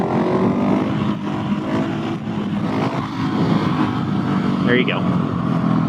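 A stock Husqvarna 701 / KTM 690 single-cylinder motorcycle accelerates hard in third gear for a wheelie on a bumpy road, its engine droning under wind noise while a rider speaks briefly.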